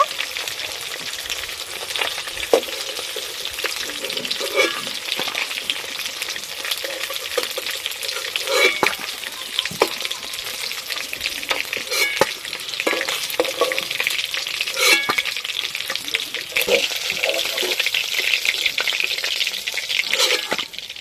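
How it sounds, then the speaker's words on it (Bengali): Koibol river fish fries in hot oil in a pan, a loud, close, continuous sizzle with bursts of crackling and spitting throughout, no voices. "মাছ ভাজা হয়ে গেছে, এবার মাছগুলো তুলে নেব"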